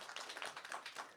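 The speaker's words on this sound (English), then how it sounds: "Give a round of applause to." Audience applause at a panel event on zero-waste management in fashion, a brief stretch of steady, fairly faint clapping from a modest crowd with no talk over it.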